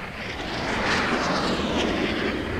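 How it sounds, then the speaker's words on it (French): Warplanes roar overhead above a burning city, a loud continuous broadband engine rumble that swells slightly and holds steady throughout with no voices. "Elle brûle sous les avions de la mort."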